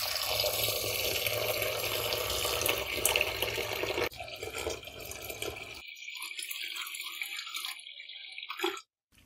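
Tap water pouring into a bowl of mixed lentils to soak them, a steady close splashing rush that thins after a few seconds into lighter trickling and drips before stopping.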